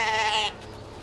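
A single Hampshire sheep gives one short, close, clear bleat, lasting about half a second before fading to quiet background.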